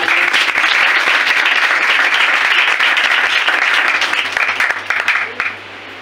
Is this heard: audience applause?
yes